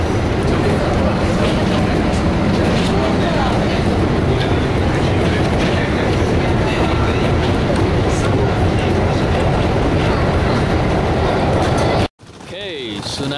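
A train in Japan rolls along rails with a loud, continuous rumble and rattling wheel noise from inside the car, then cuts off abruptly into quieter ambience near the end, with voices talking underneath.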